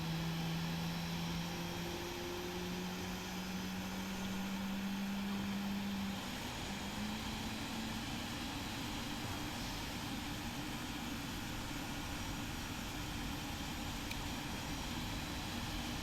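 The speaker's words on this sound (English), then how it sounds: "let Bobby start the engine" Boeing 777 engine start in a flight simulator: a steady, faint turbine roar and hiss with a low tone rising in pitch over the first several seconds, then holding as a constant drone.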